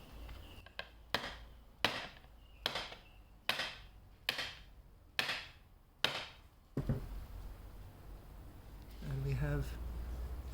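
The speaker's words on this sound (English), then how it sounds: "I'm just going to hammer the middle." Eight sharp, evenly spaced hammer strikes drive the middle of a guitar fret wire into its fretboard slot during a refret, each hit crisp and close with a short ring, followed by a few seconds of handling noise and a brief low thump.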